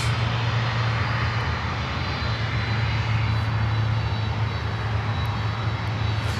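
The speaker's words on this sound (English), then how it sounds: "And we have another Atlas Air coming in here on runway 8." An Atlas Air cargo airplane lands on runway 8 with a loud, steady engine roar and a constant low hum that holds from start to finish.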